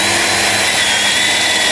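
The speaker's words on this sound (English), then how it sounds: "I don't drill too deep, just enough to get that head of the screw sunk in there" A power drill runs loud and continuous, boring into a piece of wood for a screw while a raised garden bed is built, with a steady high whine and no pauses.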